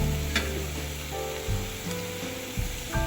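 Mashed raw plantain being mixed with coconut in a hot pan, a low soft sizzle with occasional rubbing and scraping strokes, close by, with no talking and a faint tonal hum in the background.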